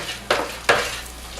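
Two brisk swishes of beer wort being stirred counterclockwise in a pot, each a quick whoosh about half a second apart, over a low steady hum.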